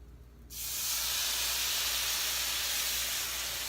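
Lemon juice hitting a hot pan gives a sudden loud, steady hiss that starts after a brief quiet moment and holds for several seconds, with no voices.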